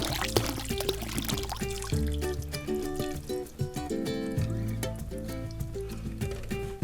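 Korean BBQ marinade pours over strips of meat for jerky with a continuous wet splashing under prominent background music.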